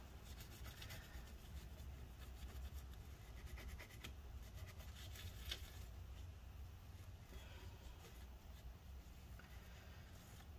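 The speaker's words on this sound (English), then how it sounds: "Try and wipe off as much as we can here first." Paper towel rubbed over a laptop heatsink to wipe away old thermal paste on an MSI PS42 8RB Prestige, giving a steady, close scratchy rubbing that runs continuously with small bursts of friction.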